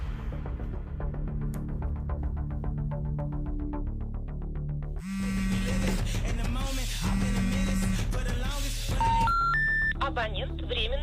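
A phone call is dialed in a drama scene: a quick rising run of short keypad tones and beeps comes near the end, after music and a stretch with a voice speaking.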